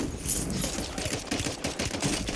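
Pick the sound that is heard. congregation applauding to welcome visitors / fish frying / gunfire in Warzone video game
gunfire in Warzone video game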